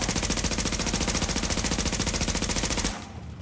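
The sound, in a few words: SMG firing in a video game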